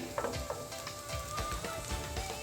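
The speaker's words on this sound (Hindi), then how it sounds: "अब मैं डालूंगी इसमें कट की गोभी" Chopped cauliflower sautéing in a pan for aloo gobhi samosa filling, a moderate sizzle with frequent stirring scrapes and soft knocks, fairly quiet and close.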